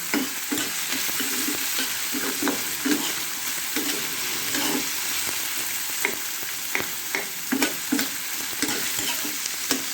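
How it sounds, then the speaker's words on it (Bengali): Carrots, tomatoes, new potatoes and green chillies frying together with a little salt in a pan, a steady close sizzle broken by repeated stirring scrapes and knocks. "গাজর টমেটা আর নতুন গোলালু কাঁচামরিচ একসাথে আমি হালকা লবণ দিয়ে ভেজে নিচ্ছি"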